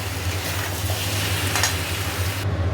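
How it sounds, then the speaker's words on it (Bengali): Lentil fritters and potato curry stir-fried together in a pan, giving a steady, close sizzle with a low continuous hum beneath it and no talk. "বড়া দিয়ে দিয়েছি, বড়ার সাথে একসাথে ভালো করে কষাচ্ছি"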